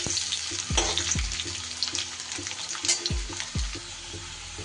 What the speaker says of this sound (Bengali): এবার আলুগুলো তুলে নিয়ে আমি ওই তেলে পেঁয়াজ কলি আর বেগুনটাও দিয়ে দিয়েছি।